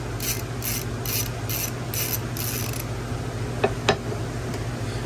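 Ratchet with a 7mm socket turning carburetor nuts on a Troy-Bilt TB110 lawnmower: six quick rhythmic ratcheting clicks close up, then a pause and a couple of sharp metallic taps, over a steady background hum.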